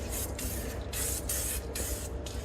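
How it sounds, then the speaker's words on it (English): Super Clean cleaner hisses from an aerosol spray can in a series of short, loud bursts, about five quick sprays in a row, close up with no talking. "I'm going to use Super Clean again, but this time I'm going to use it in this spray can"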